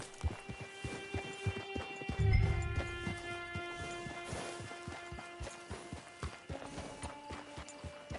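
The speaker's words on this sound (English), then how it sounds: "Get your horse." Horse hooves in the Red Dead Redemption 2 video game, a rhythmic clip-clop of steps at moderate volume set against a soft game music bed, with one heavier thud partway through.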